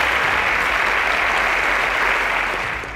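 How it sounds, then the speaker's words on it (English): Audience at a school quiz show applauding: a dense, loud burst of clapping that holds steady, then begins to taper off at the end. "A round of applause for Oyelude."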